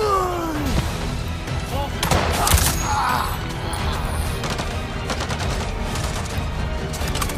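Gunfire in the video game Avatar Frontiers of Pandora during a fight with robots: repeated sharp shots and bursts over a dense mix of game effects and a swooping tone, with someone talking throughout.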